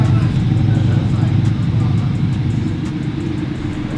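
A Mercedes C-Class diesel fitted with an electronic sound generator idles with a steady, loud, low rumble meant to mimic a petrol engine, close by and without pause for several seconds.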